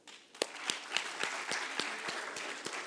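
A small audience at a mentors' session claps: a sparse, fairly even run of about ten distinct hand claps, quiet and close, over roughly three seconds.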